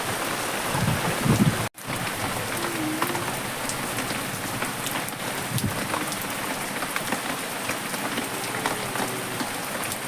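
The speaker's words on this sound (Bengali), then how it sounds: "ওই সাইডে বৃষ্টি হচ্ছে" Rain falls outdoors on a cloudy, windy day in a steady, even patter of drops, close and continuous, with a brief dropout early on and no talking.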